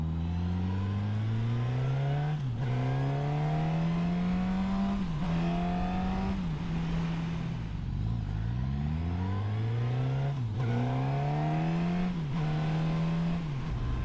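A 2021 Suzuki GSX-S1000F motorcycle on the road, its engine climbing in pitch through repeated revs, dipping briefly at each gear change before pulling again, loud and close throughout.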